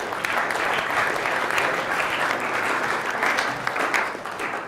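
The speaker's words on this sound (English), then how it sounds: "Let's give him a round of applause." An audience claps in a steady, dense round of applause that carries evenly throughout and tapers slightly at the end.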